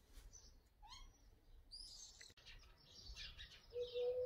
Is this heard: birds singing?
yes